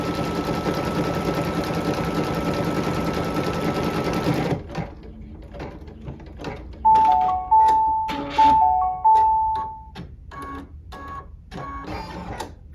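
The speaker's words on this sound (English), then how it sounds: "The machine's going to stop and tie off here and do a jump stitch as it moves to a different section of bean stitches." An embroidery machine stitches a bean stitch appliqué in a rapid whirring run, then stops for a tie-off and jump stitch, giving way to a series of short mechanical ticks, beeps and clunks.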